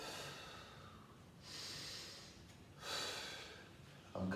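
Two slow, deep breaths taken close to the microphone during a breathing exercise, each one a breathy rush of air separated by a short pause.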